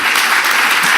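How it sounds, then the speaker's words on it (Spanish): A short burst of steady applause from an audience at a public talk on education, dense and even throughout. "Voy a aprovechar el aplauso"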